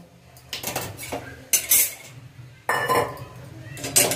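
Fried dalia (cracked wheat) scraped from a hot pan into a pot in a village kitchen, with several bursts of metal utensil clatter and scraping separated by short pauses, close and fairly loud.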